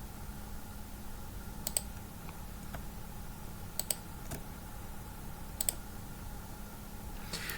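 Several sharp computer mouse clicks sound at irregular intervals over a steady hum of a quiet room, some coming in quick pairs, close and moderately soft, with no speech.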